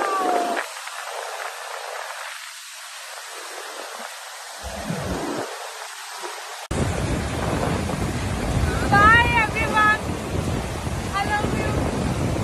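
Surf rolls in with a steady wash of water, buffeted by heavy wind against the microphone; a voice briefly rises over the noise.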